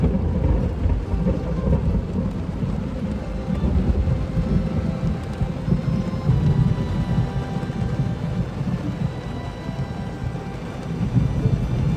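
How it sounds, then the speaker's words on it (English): Steady heavy rain pouring down and pattering against windows, heard from indoors as a dense, continuous hiss with low rumbling underneath, unbroken throughout. "the rain coming down and the water bouncing off my windows"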